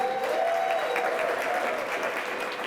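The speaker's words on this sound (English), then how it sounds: "Was that your table doing all the applause" An audience at a Columbus Metropolitan Club forum breaks into steady, brisk applause, many hands clapping together at a moderate distance throughout the short stretch, with no voices over it.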